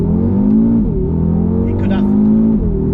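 A 2020 Audi RS3 engine accelerates with a loud, steady drone heard from inside the car, its pitch dipping briefly twice as a voice talks over it.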